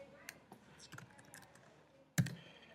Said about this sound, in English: you can edit the grade by double-clicking here